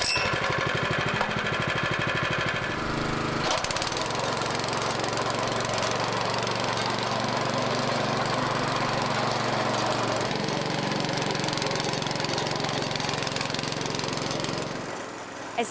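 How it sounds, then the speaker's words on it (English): Gas sod cutter engine cutting a 10-inch path through lawn grass for concrete curbing, a loud continuous rumbling drone with shifting load, steady throughout and tapering at the end. "we'll use a sod cutter, which will remove a 10-inch wide path of grass that the curbing will lay in"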